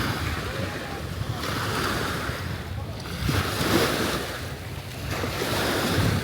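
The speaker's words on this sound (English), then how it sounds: "The water waves doing what they do always." Waves wash against the Lake Victoria shore at Entebbe in repeated surges while strong wind buffets the microphone, loud and close throughout.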